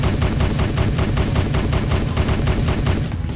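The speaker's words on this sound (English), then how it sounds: "We got the minigun, Spartacus D7 minigun." The Spartacus D7 minigun in the video game Choke Point fires one sustained, dense burst of rapid shots, loud and close, forming a continuous roar with no pauses and no talking.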